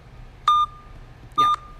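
Two short, identical censor bleeps cut into a sports podcast discussion, each a clean steady tone lasting a fraction of a second, separated by a brief pause with faint talk underneath.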